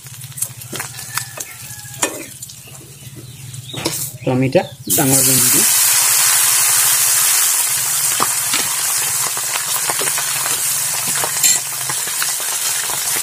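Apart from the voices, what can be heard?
fish frying in a wok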